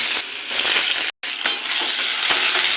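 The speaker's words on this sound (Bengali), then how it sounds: "এবার দিয়ে দেবো তেজপাতা তেলের উপর দিয়ে দেবো তেজপাতা গোটা জিরে ফোড়ন" Bay leaves and whole cumin seeds fry in hot oil with a steady, loud sizzle and light stirring; the sound cuts out for an instant partway through, then continues.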